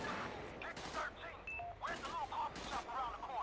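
Gunfire in a GTA police shootout played with the LSPDFR mod, heard as a handful of sharp, moderately distant shots scattered among chatter and radio-like voices.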